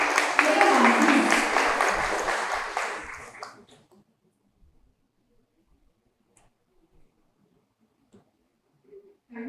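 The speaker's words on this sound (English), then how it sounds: "Can we have a round of applause for her?" Audience applause fills a hall at an orientation day as a speaker is welcomed on stage, loud at first and fading out over about four seconds into near silence.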